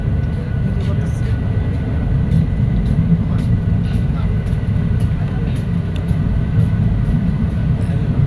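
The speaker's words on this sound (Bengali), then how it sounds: "আমরা রেলে বসে আছি তো" Inside a moving train with the windows shut, a loud continuous low rumble of the carriage on the rails carries on steadily beside the river crossing.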